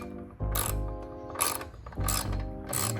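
A ratchet tightens the strut tower brace bolts on a Dodge Charger 6.4 or 5.7, clicking in several quick bursts separated by short gaps, close up with no voices.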